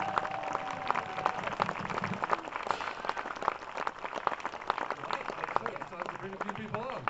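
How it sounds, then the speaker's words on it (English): Festival crowd at the Robin Hood Festival 2013 grand finale applauding the council, a steady patter of clapping running beneath someone talking over the PA with faint music. "Another round of applause for the council,"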